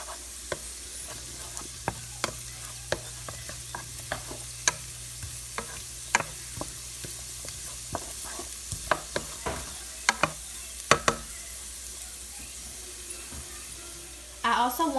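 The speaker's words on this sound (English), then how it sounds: "I'm going to add in these carrots, and I'm going to saute them for about 8 minutes or until they're tender" Carrots sauté in salted butter in a pan, a soft steady sizzle under frequent sharp clicks and scrapes of stirring, with a louder burst of movement at the very end.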